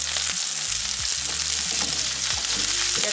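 Butter sizzles and crackles steadily with olive oil in a hot frying pan, loud and close, with a low hum underneath and no talking.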